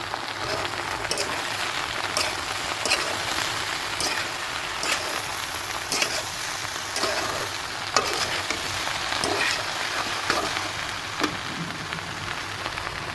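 Okra and potato fry being stirred in a pan with cumin powder and salt, a continuous close sizzle broken by regular scraping strokes of a spatula.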